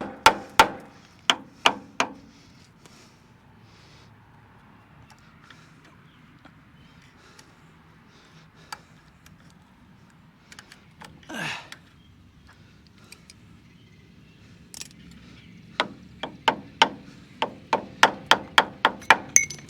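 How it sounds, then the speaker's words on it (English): A hammer knocks a collar ring off the hoist of a 1962 Ford C750 cabover truck: sharp metallic blows cluster at the start, a few scattered knocks follow, then a rapid run of about ten strikes closes it. "To get the old hammer for that."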